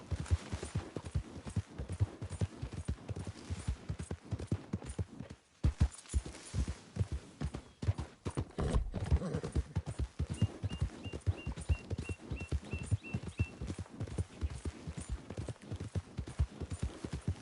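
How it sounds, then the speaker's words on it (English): Hooves of a single horse clip-clop at a steady walking rhythm in Red Dead Redemption 2, close and fairly quiet, with a short pause in the middle before the even beat resumes. "Good horse."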